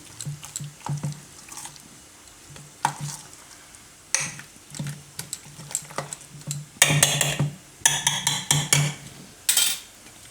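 Pea and potato pakoda batter being mixed in a bowl, with quiet tapping at first, then bursts of brisk scraping and clinking strokes that grow louder and denser toward the end.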